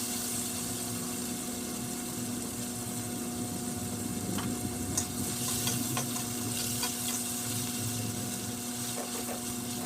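Chopped onions and tomatoes sizzle in a frying pan as they are sautéed, a faint steady crackle with occasional soft stirring scrapes and clinks, no voices.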